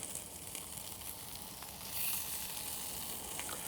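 Onion rings topped with marinara sauce sizzle steadily on a hot Ugly Drum Smoker, a continuous close frying hiss that swells briefly partway through, with no talking.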